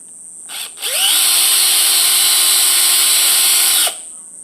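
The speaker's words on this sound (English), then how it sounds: "Run the drill through." A power drill whirs up to speed and drills steadily through a THC edible bar for about three seconds at close range, then winds down abruptly.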